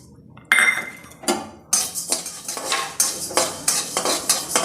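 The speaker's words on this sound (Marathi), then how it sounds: "आता यामध्ये धने भाजून घेणार आहे।" Coriander seeds roast in a pan while being stirred for chakli flour. A spoon scrapes and clinks against the metal again and again in a steady rhythm, close up, with a faint sizzle underneath.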